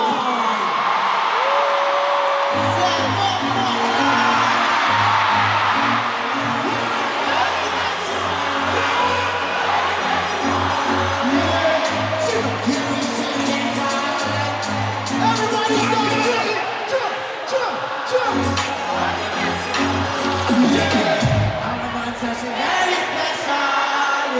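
A concert crowd at an Afrobeats and dancehall show roars and whoops for the performer over thumping music with a deep bassline, loud and sustained, with shouts and screams rising throughout.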